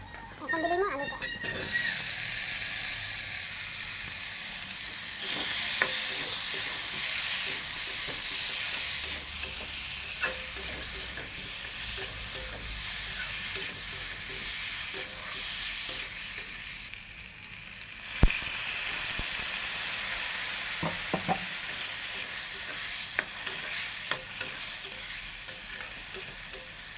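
Potatoes added to fried spices in a home kitchen pan, a steady hiss of frying with intermittent scraping and stirring clatter, moderately loud and continuous throughout.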